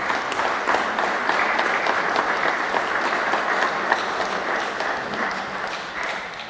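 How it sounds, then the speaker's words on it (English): Crowd at an All-Ireland Hardball Championship handball match applauding both players, a dense, sustained wash of clapping that stays loud and steady throughout. "Big round of applause for both players there."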